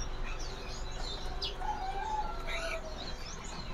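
Munia birds at a bird market chirp and tweet in short, scattered calls, fairly faint against a steady background hum.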